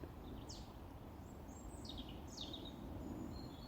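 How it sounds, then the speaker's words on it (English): Birds chirp and trill in short, high bursts against a soft woodland hush, fairly faint and somewhat distant, with no voices. "There are a lot of birds singing right now and it is actually beautiful."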